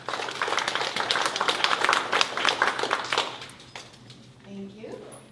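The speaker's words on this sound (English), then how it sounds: "So please give a round of applause." Audience applauding after a lecture introduction at MOHAI, a burst of close, dense clapping that fades away over a few seconds before a voice speaks.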